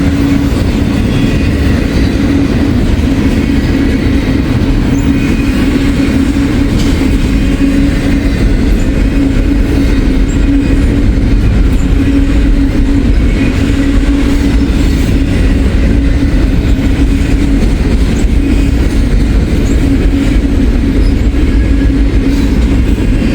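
A short freight train rolls past on the Donut Trail with a continuous, close, heavy rumble and faint rhythmic clatter of wheels over the rails, steady throughout.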